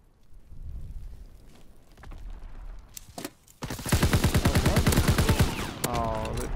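Rapid automatic gunfire from a WWII video game, starting with a few scattered shots and then a loud, sustained burst of evenly spaced rounds near the end, with faint background noise and some game sounds.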